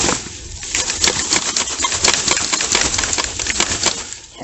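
Crinkly plastic packaging rustles loudly and steadily up close while a 12 volt Tozalazz air compressor is pulled out of its bag, with busy crackling handling noise and no speech.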